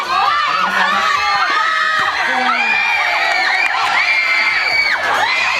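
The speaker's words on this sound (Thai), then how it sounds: "หมายเลขหกเสียงกองเชียร์นี่ดังนั่นสนามเลยนะฮะ" Football crowd cheering at a Dragon FC match, a steady, dense wash of shouting and whooping voices with rising and falling yells, continuous throughout.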